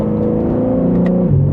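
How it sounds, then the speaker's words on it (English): A 2026 BMW M3 Competition twin-turbo sedan revs up loudly and steadily, a deep droning exhaust note that climbs and then shifts pitch near the end, heard up close. "you can get a little bit more of a louder exhaust and feel"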